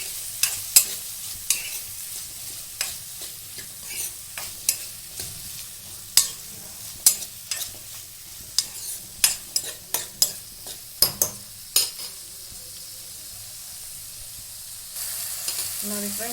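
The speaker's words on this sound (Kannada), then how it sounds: "ಒಂದು ಸ್ವಲ್ಪ ಎಣ್ಣೆ ಹಾಕಿ ಹುರ್ಕೊಳ್ಳೋಣ. ಇದು ಚೆನ್ನಾಗಿ ಫ್ರೈ ಆಗಬೇಕು." Onion-free masala for paneer masala fries in oil in a pan with a steady sizzle, broken by repeated sharp clinks of a spoon stirring against the pan, close and clear with no talking.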